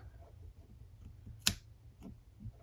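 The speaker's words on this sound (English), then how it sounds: "And then you can take your scissors" Scissors snip once through a wall hanging cord, a single sharp, close click over a quiet room background.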